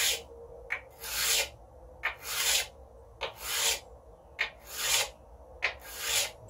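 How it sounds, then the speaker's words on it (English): A card scraper is pushed flat across a grinding stone in about six steady, solid passes, each a rasping scrape followed by a short pause, close and moderately loud. "And now I'm going to do the same thing with this grinding stone."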